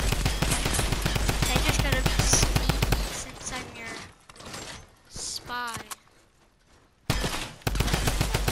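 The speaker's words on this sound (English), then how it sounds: "we're practicing fire. We're going to the firing range." Rapid gunfire from a gem gun at a firing range in a Fortnite-style spy game, dense bursts at the start and again near the end, with game sounds and a short gap of quiet between.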